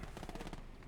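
An MG42 machine gun fires in the video game Gates of Hell, a loud, dense, rapid burst of gunfire lasting about a second.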